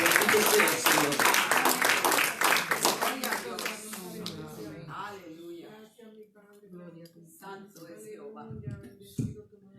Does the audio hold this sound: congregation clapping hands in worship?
yes